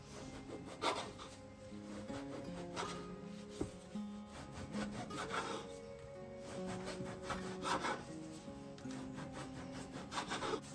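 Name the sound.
knife cutting a stack of ready-made filo pastry sheets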